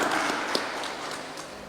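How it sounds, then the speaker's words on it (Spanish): Scattered applause from a church congregation, moderately loud and fading slightly, with a few distinct claps standing out. "Démosle un aplauso al Señor."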